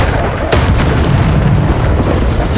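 A Bombarda spell goes off in Hogwarts Legacy as a loud, close, booming blast with a sharp burst about half a second in, followed by a rumbling roar that holds for about two seconds.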